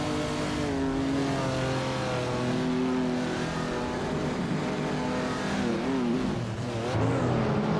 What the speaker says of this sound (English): Leanne Yeshin is driving a vintage Ford Escort Mark I, RSM 1600